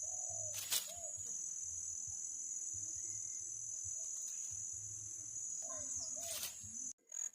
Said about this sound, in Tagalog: ang tawag dito sa amin yan ay tukmul o di kaya naman ay bato-bato dito sa probinsya ng Quezon